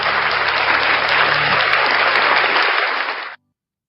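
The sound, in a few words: applause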